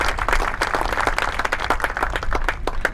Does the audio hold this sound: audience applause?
yes